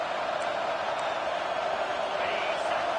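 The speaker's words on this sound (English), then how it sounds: "Here comes this home crowd as the defense tries to get off the field on third down" Home crowd at a Georgia vs Missouri college football game roars steadily in a broad, sustained wash of cheering as the defense lines up on third down, with no break in the noise.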